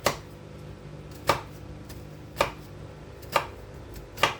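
A knife chops onion finely on a board, giving five sharp, separate strikes at loose, uneven intervals over a quiet background.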